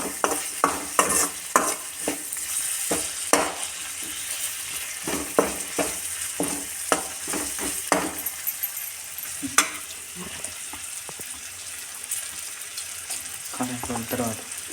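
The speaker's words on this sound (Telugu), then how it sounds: "మళ్ళా మనం ఉల్లిగడ్డలు పచ్చిమిర్చి కూడా అన్నీ వేయించుకోవాలి ముందుగా" Chopped onions and green chillies fry in a pan for egg fried rice. The sizzle runs under a run of sharp spatula scrapes and clacks from stirring, close up with no speech.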